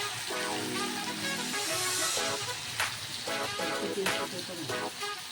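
A ground spice paste of mustard seed, asafoetida and fenugreek sizzles in hot oil in a wok for egg pickle, giving a steady crackling hiss with occasional sharper pops, while a voice talks faintly underneath.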